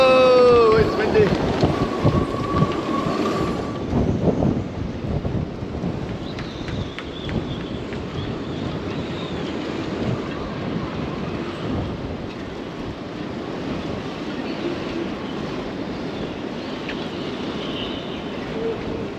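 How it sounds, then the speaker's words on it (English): Strong harbour wind of around 65 knots roars and buffets steadily throughout, with gusty rumbling noise and some brief chirps near the start. "Oh, it's windy."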